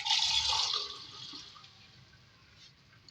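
A brief splash of about half a glass of water poured into a cooking pot with tomatoes and oil for chicken and potato stew, loud at first and then tapering off into a quiet trickle.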